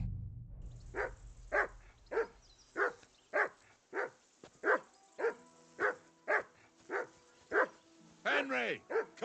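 A dog in the video game Kingdom Come: Deliverance barks over and over in a steady, evenly spaced series of about fifteen sharp barks, close and loud, ending in a few whimpering yips.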